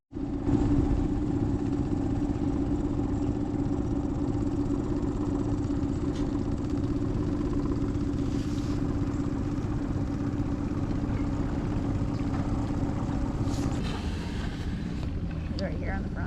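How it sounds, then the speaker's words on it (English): Outboard-powered dive boats rumble past on Crystal River, Florida, a steady low motor drone lasting many seconds before fading, mixed with wind buffeting the microphone. "I guess the dive boats don't care about the manatees because they just passed us"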